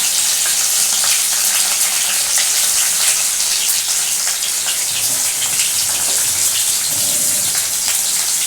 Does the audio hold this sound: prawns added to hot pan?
yes